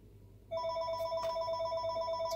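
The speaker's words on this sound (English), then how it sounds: "Oh, there's the phone, sorry." A telephone starts ringing about halfway through, a steady electronic ring with bright tonal harmonics that continues alone over a quiet room background.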